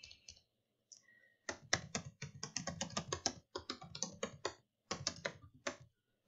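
Bursts of rapid typing on a computer keyboard, close and fairly quiet, with short pauses between clusters of clicky keystrokes and no voice.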